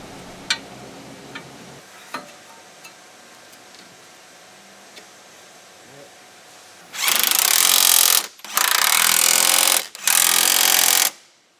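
A power tool tightens the strut bolts during a Lincoln Mark VII front suspension conversion. Faint ticks and taps come first, then three loud, close bursts of whirring hammering separated by short pauses.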